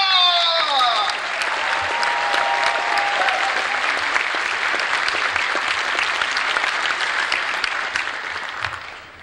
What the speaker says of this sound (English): Now keep that applause going as we welcome out our chairman, Rama!